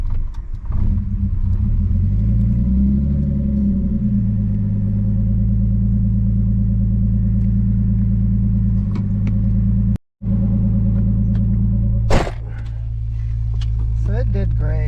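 A car engine rumbles steadily at close range, with a rising and falling rev swell early on, a brief cut-out partway through and a sharp higher-pitched rev near the end.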